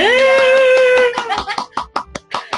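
A short burst of scattered hand claps follows a held, sung-out voice, the claps uneven and close, mixed with a little laughter, in a casual Portuguese-speaking setting.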